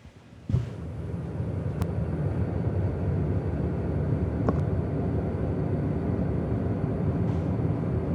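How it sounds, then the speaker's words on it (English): A recording of Neptune's space sounds, a steady low rumbling drone like the inside of an airplane cabin, continuous and even, with a few faint clicks and no voices. "Space Sounds. This one right here."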